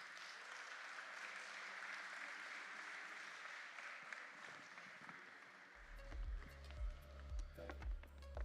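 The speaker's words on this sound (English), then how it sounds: "give them a warm round of applause." An audience at an energy conference panel discussion claps in sustained applause that fills the room, then thins out as scattered footsteps and rustling take over near the end.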